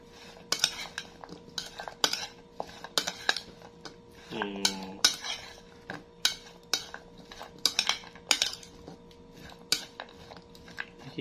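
A spoon scrapes and clinks against a bowl while spicy chutney of amla, amra and guava is mixed with chili powder. The taps and scrapes are close and irregular, with a brief tonal clatter midway.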